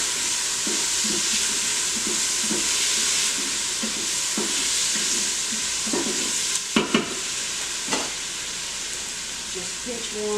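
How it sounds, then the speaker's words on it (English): Garlic tossed and fried in an Instant Pot hisses with a bright, continuous sizzle, overlaid by soft scraping stirs and a few sharper knocks of a utensil near the end. "this is just going to get tossed around for about a minute"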